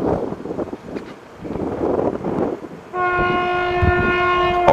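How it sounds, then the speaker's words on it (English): A Class 221 Super Voyager diesel train, nine cars long, rushes past at speed on a main line near Beningbrough, with a rising rumble of wheels and wind and then a loud sustained multi-tone horn blast, close and alone. "we saw a cross-country Class 221 Super Voyager on a service to Penzance"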